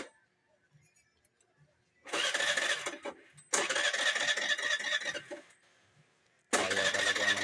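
A Suzuki Avenis scooter that has trouble running roars into life in three separate loud bursts, each cut off by near silence, close by and with no one talking.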